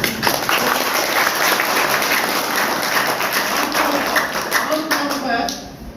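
Dense, sustained applause from an audience at a poetry recital held inside a jail, steady and loud throughout before thinning out at the very end.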